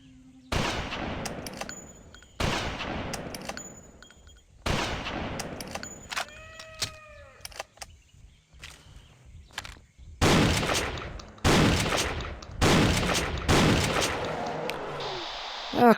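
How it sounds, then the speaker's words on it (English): Shotgun blasts from the video game Jurassic Park Revolution: several loud, sharp booms with decaying tails spaced a second or two apart, a quieter stretch with a short tonal game sound, then a rapid closer cluster of heavy shots. "that was a shotgun we were using"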